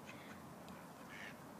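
Ducks quacking at Stanley Park in spring, a few short, faint calls at a distance against a steady outdoor background.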